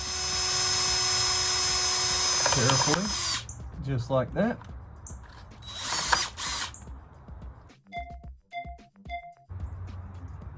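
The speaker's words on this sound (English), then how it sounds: "we're gonna drill two small holes" A power drill bores small holes in the battery tray of a Ford F150 EcoBoost, with bursts of whirring and ratcheting clicks, interrupted by short pauses and a person talking quietly nearby.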